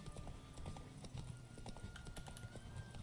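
Horse hooves galloping in The Witcher 3: Wild Hunt, a steady rapid clip-clop with the occasional whinny over continuous game music and ambience.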